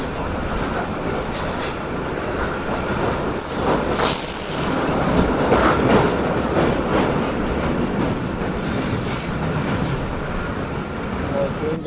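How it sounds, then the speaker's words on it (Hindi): A freight train rumbles past near a passenger train of the Karakoram Express, with loud continuous wheel roar, rhythmic clickety-clack and high squealing from the rails throughout. "हमारे सामने से एक अदद माल गाड़ी आ रही है"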